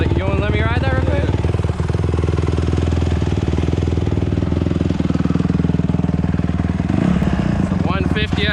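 A 150cc dirt bike engine runs close by in a parking lot, a loud, steady buzzing putter with rapid firing pulses and slight rev changes, while a person talks over it near the start and end.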